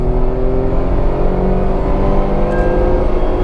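Tata Altroz 1.2-litre petrol car pulling away in first gear, a steady, loud engine drone with a rising tone heard from inside the cabin, no talking.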